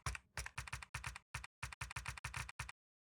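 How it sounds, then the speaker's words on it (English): Quick bursts of typing on a computer keyboard, close and crisp in about a dozen short clusters of keystrokes, then silence at the end. "type what you want to replace."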